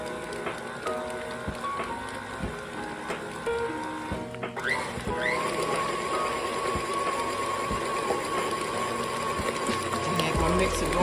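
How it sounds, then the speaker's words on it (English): An electric stand mixer fitted with a paddle beats pound cake batter while eggs are added, a continuous mechanical whir that picks up and grows louder partway through, with a person talking over it. "Now I'm going to turn my beaters back on, my paddle back on, and add my eggs,"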